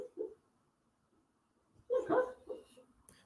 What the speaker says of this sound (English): My dog barking in his sleep.